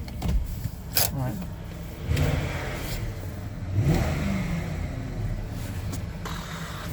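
A big Range Rover L322 engine revs with a steady mid-range roar, rising and surging a few times through broad noise, close and fairly loud.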